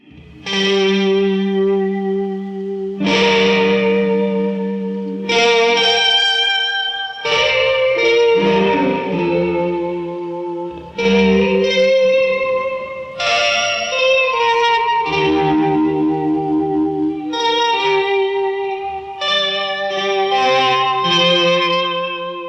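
A slow, mournful synthesized melody from the Max Payne 3 soundtrack, with heavy echo and chorus effects, notes ringing out in long sustained phrases, loud and steady throughout.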